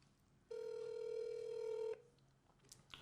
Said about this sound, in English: If it's closed captioning, it's ringing.